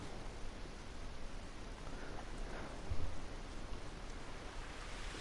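Steady rain pours in the video game The Last of Us, a dense, even hiss of drops on surfaces with a brief slightly louder patch midway and no voices.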